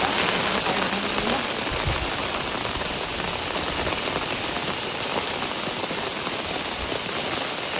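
Steady, dense rain patters hard on a surface close by, a constant hiss of drops with no breaks throughout.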